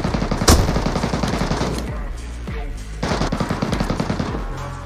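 Video-game automatic gunfire rattles in rapid, close bursts, with a sharp louder shot near the start and a brief pause midway before firing resumes.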